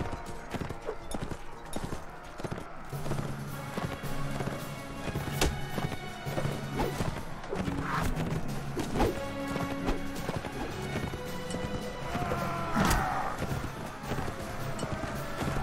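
Galloping horse hooves in the medieval combat game Mount & Blade: Warband, a steady rapid clip-clop close up, mixed with game clatter and occasional crashes throughout.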